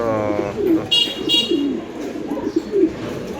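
Big-sized racing pigeons coo in low, throaty rolls, several times in quick succession, close by and fairly loud. A steady background din runs underneath, and a couple of brief higher squeaks cut in partway through.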